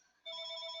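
A phone starts ringing abruptly indoors with a steady electronic ring tone, faint and alone, with no talk.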